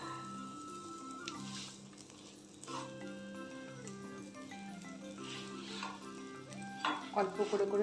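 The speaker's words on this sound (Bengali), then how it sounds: "এবার আমি এটাকে তেল দিয়ে ভেজে নেব।" An aloo paratha fries in oil on a tawa with a soft, steady sizzle, while light scrapes sound near the end. Tonal background music plays throughout and mostly covers it.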